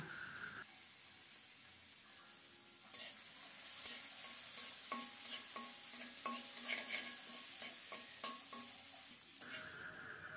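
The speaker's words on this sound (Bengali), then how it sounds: "চিংড়ি মাছে হলুদ লবণ মাখিয়ে চিংড়ি মাছগুলো লাল লাল করে ভেজে নেব।" Small shrimp coated in turmeric and salt fry in mustard oil in a kadai, making a loud close sizzle broken by sharp clinks and scrapes of a spatula stirring.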